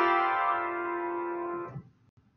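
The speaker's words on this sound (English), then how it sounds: "A tone cluster can be produced on the piano by striking a group of adjacent keys with the fist or forearm." A piano tone cluster, a group of adjacent keys struck together with the fist or forearm, rings out as one dense, buzzing chord. It sustains for under two seconds, then cuts off abruptly.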